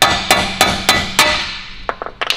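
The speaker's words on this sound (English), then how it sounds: "hammer that thing out" Sharp metallic hammer strikes drive old wheel studs out of the hub of a Nissan S15; four evenly spaced loud blows land about every third of a second, followed by a few quicker lighter taps, close and with no talking.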